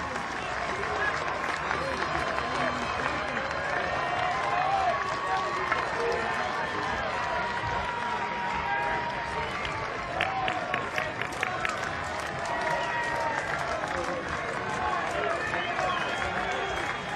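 A record crowd at a college baseball super regional in Corvallis, Oregon State against Minnesota, roars and applauds in a sustained wash of cheering and clapping that holds steady throughout, with a voice speaking over the din.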